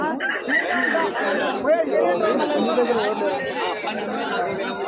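Roosters crow amid busy clucking fowl at a crowded hen market, with people chattering close by throughout.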